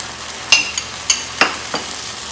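Sauce going into a hot pan of tofu and broccoli stir fry, a constant sizzle broken by a few sharp spatters and spoon scrapes, close and alone with no voices.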